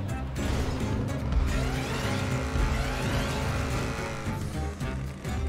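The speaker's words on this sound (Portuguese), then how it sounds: "Toda vez que eu vou fazer a rampa, o carro dá aquela derrapada." Steady, dense engine roar and tyre noise from a car racing up a ramp in GTA V Online, loud and continuous with game music layered underneath, holding level throughout with no pauses.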